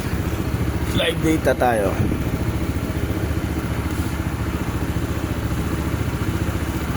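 A 2026 Honda PCX 160 scooter engine idles steadily in the background, a low continuous mechanical hum, while someone talks briefly over it near the start.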